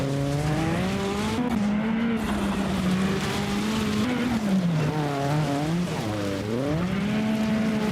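A race car engine in Automobilista 2 game audio roars continuously, its pitch rising and falling with gear shifts and throttle changes, loud and close throughout.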